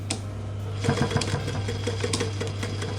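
A domestic sewing machine stitches a fabric crayon roll, running a steady motorized whir with a rapid needle rhythm and short bursts as it stitches forward and reverses, close and continuous.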